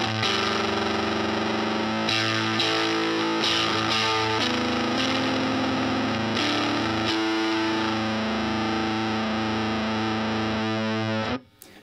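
Electric guitar through a fuzz pedal on a pedalboard, the volume rolled down into a sputtery, broken-amp tone, holding thick distorted chords that ring on steadily for several seconds before cutting off.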